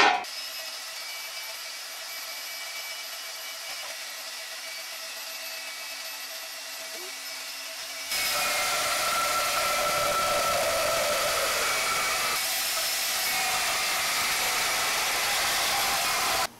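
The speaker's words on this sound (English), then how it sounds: "I decided to break out the plasma cutter because the bandsaw is just not doing so great" A plasma cutter slicing through rectangular steel tubing. A low steady hum gives way midway to a loud, sustained, hissing roar that holds steady to the end.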